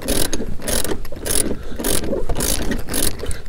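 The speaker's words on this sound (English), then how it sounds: "we need to go back onto the wrench" A ratchet wrench turns a rear seat bolt on a Fiat 500, its loud, close clicking coming in quick repeated strokes with brief pauses between swings.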